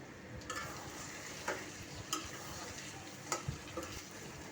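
Broiler chicken bhuna with potatoes stir-fries in a pan under a constant soft sizzle, with a few sharp spoon clicks against the pan spaced through it, quiet and close with no talk.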